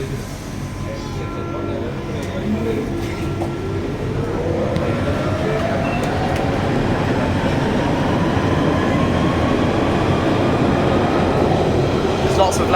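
A London Underground Central Line train runs loudly at speed, a dense continuous roar and rumble with a rising whine building over the whole stretch, heard from inside the carriage.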